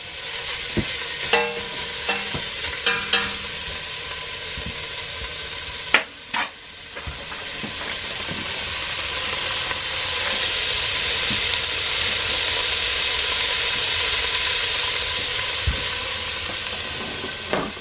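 Ground beef browns in a hot pan in an RV in the desert, a steady broad sizzling hiss with occasional clinks and scrapes of stirring.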